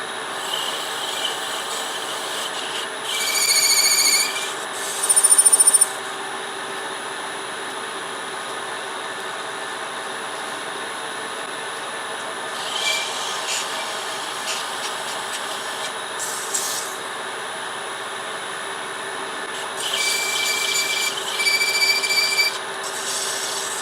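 Sandpaper rubbing against a wooden spin top turning on a lathe, several short raspy bursts of sanding over the steady whir of the spinning lathe, close and without talk.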